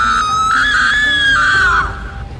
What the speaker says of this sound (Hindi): इस हवेली के अंदर से किसी के चीखने चिल्लाने की आवाज आ रही थी